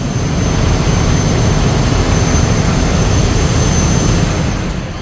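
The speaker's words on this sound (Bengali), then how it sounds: "নিচতলার এইখান থেকে দেখেন প্রপলর থ্রাস্ট চমৎকার" Zam Zam-7 river launch with its propeller thrust, heard from the lower deck on the Munshiganj to Dhaka route, as a loud, steady broadband roar of engine and churning water that holds constant throughout.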